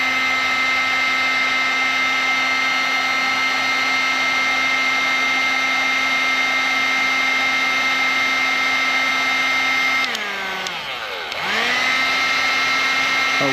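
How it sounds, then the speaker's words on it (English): A heat gun runs steadily and loud to free a seized joint, giving a constant fan-and-element whine that dips briefly in pitch near the end as it is moved or loaded, then settles again. "If I can demonstrate the old trusty"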